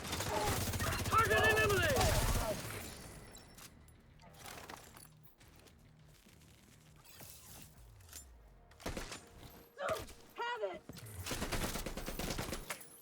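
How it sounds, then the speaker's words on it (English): Rapid video game gunfire bursts out of a dense, noisy opening, then scattered sharp shots and clanks, with a voice talking intermittently over the action. "That was some shooting."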